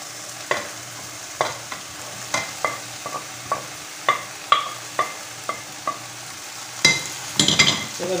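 Carne seca (dried beef) stirred in a frying pan: a close, steady sizzle broken by repeated, irregularly spaced scrapes and knocks of the spoon against the pan, with a louder cluster of strokes near the end.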